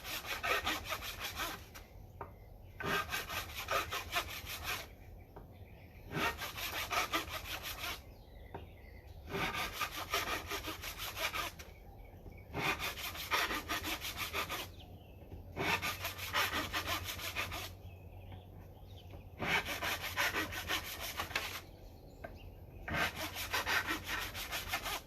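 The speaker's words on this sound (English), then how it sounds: "If I hear the blade cutting at all, that means that we're establishing the depth that it needs." A hand saw blade cuts into the fret slots of a wooden fingerboard that is being radiused. It makes steady back-and-forth rasping strokes, about two per second, close up and moderately loud, with short pauses between bursts and no talking.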